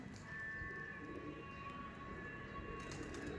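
Madrasi pigeons coo softly in a loft among white, black and cumin-coloured birds, low murmuring calls under a steady background hum.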